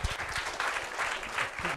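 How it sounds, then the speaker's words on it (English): Audience applause welcoming a speaker to the stage at a talk on AI, a steady dense patter of many hands clapping at moderate distance, continuous for the whole stretch with no voices over it. "So let's welcome Prateek Jain with a big round of applause."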